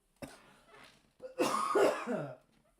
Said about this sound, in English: on top of that freaking cough that doesn't go away